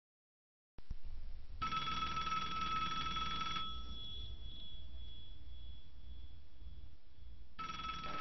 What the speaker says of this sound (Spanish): cuando tomamos el café sonó el teléfono